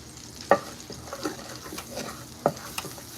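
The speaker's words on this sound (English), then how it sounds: "Get our roux going here." Flour roux cooking in a pan with a gentle steady sizzle, a spoon scraping and knocking against the pan a few times, close and fairly quiet.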